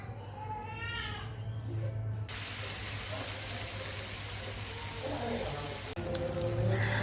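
Spice paste sizzles as it is stir-fried and stirred in a pan, a steady soft frying hiss under a voice talking at the start and end.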